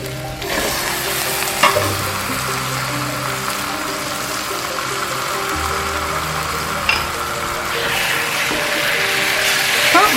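Onions frying until brown for mutton rogan josh, a steady loud sizzle with intermittent stirring scrapes and clinks of a spoon against the pan, continuous throughout.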